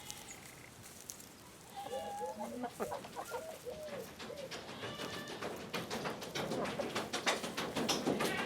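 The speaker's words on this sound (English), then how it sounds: "That was a guinea." A guinea fowl in a farm barn setting gives repeated harsh, chattering calls, first as a short burst of raspy cries, then as a rapid, rhythmic cackle that grows louder and fills the rest of the moment.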